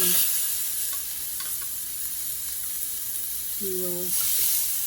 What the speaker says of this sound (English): This is a hot pan, and I'm going to put the lamb chops down.